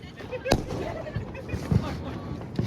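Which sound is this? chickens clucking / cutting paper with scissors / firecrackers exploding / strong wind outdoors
firecrackers exploding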